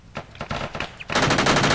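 Rapid automatic gunfire in a military video game as players shoot at an enemy vehicle, a quick stuttering burst followed by a denser, louder stream of shots.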